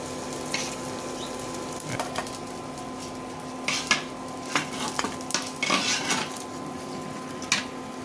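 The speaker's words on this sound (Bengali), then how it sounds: "মোরে চিংড়ি মাছ ভাজা হয়ে গেছে, মুই নামাই নি।" Prawns fry in a pan with a low, steady sizzle, broken by scattered close clinks and scrapes of a utensil stirring against the pan, with no talking.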